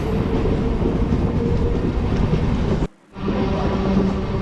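MEMU train 67204 rolling along the rails at speed, a steady loud rumble with clickety-clack, broken by a brief near-silent gap before the noise returns.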